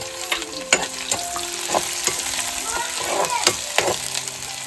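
Garlic fries in oil over a wood-fired clay stove for a mandeli fish curry, a loud close sizzle punctuated by repeated sharp scrapes and clacks of a spoon stirring against the pan.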